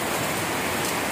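Heavy, close rain pours down as a dense, loud, continuous hiss with no gaps and no voices.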